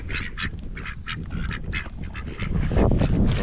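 Ducks quack repeatedly in short, bright bursts while being fed on a farm in a volcano crater, close and lively, with a low rumble of background noise beneath.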